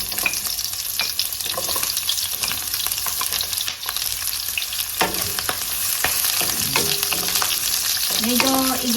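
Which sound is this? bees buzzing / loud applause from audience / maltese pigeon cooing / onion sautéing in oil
onion sautéing in oil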